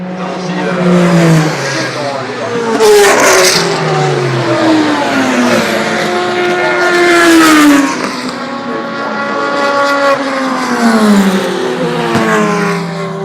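Audi R18 and other prototype race cars lapping in the closing minutes of the 2011 24 Hours of Le Mans, engines droning and rising and falling steadily in pitch, loud and continuous with an announcer talking over them.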